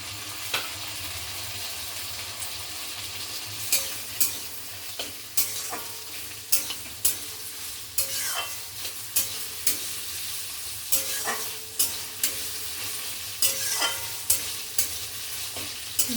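Chopped tomatoes sizzle steadily in a frying pan while a utensil stirs them, with regular scraping clicks and clatters over the continuous frying hiss, close and fairly quiet, no talk.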